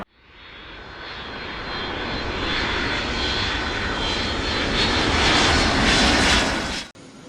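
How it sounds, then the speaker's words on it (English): An airplane takes off with a roaring engine that swells from quiet to a loud, sustained rush, then cuts off abruptly near the end. "Fasten your seatbelts and get ready for the takeoff."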